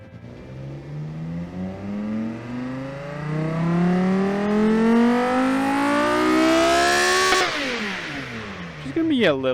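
Engine of a track-toy car in a video game revving, a rising whine that climbs steadily in pitch for several seconds, then cuts off abruptly and drops back.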